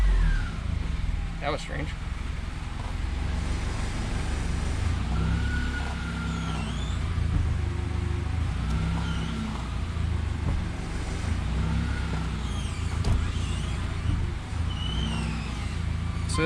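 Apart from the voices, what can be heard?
Scion FR-S car engine starting and running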